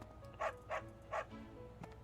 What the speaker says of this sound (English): Good dog.